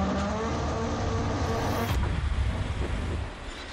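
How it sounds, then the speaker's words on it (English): A go-kart engine revs hard during racing as the tires are burned off, a loud continuous whine with squeal and rising revs that fades near the end. "he's just burning the tires off of this go-kart"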